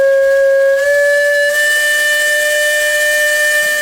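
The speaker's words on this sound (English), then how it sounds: "Attached to the Case engine is a whistle that was once used on the old swing bridge." An old swing bridge's steam whistle, fitted to a Case steam engine, gives one loud, steady, sustained blast that rises slightly in pitch and brightens partway through, with no talk.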